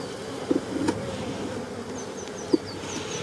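Honey bees buzzing around an open beehive, a steady droning hum close by, broken by a few sharp clicks and knocks of hive tools on the wooden box.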